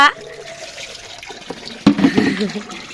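Water splashing and pouring at home while small children are bathed, a burst of sloshing near the end following a quieter stretch, with voices talking over it.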